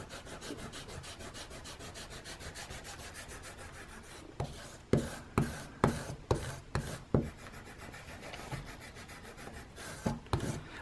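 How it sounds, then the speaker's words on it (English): A leather strop from a wallet-and-bracelet set is rubbed with stropping compound, giving a steady soft friction hiss that breaks into a series of sharper rhythmic scrubbing strokes, close by and alone. "you can just apply the strapping compound and just kind of rub it in here"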